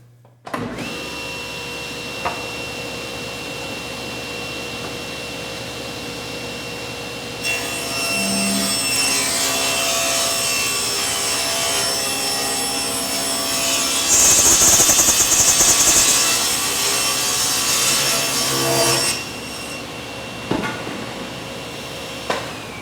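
A saw rips wood along a fence, with a motor humming and then a louder, rougher cutting roar that swells mid-way and winds down afterward, close and loud.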